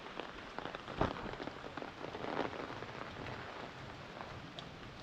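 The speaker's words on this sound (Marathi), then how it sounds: "परत पावसाने जोर धरला आहे." Heavy monsoon rain pours down steadily during the Gauri Ganpati immersion, a dense continuous hiss of drops striking surfaces, with a few louder splashes and no voices.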